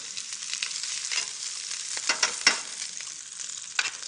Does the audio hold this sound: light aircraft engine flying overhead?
no